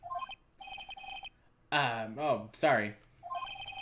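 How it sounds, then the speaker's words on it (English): Phone in the Phoenix Wright: Ace Attorney video game ringing after a redial, with electronic ring tones at the start, middle and end, and someone speaking between the rings. "You pressed redial on that there phone there, didn't you?"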